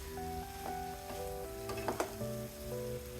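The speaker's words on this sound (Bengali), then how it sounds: "দুই মিনিটের মতো বেগুন আমি কষিয়ে নেব ঢাকনা ছাড়া কষাবো" Sliced eggplant cut into long strips fries uncovered in a pan, giving a steady, close sizzle with a few sharper crackles and faint background tones.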